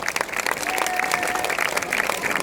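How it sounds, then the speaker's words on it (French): A crowd at a French mountain-bike championship cross-country eliminator applauds a rider's eighth national champion's jersey, a sustained dense clapping with some cheering, fairly loud and steady throughout. "le 8e maillot de championne de France, ça s'applaudit vraiment très très fort"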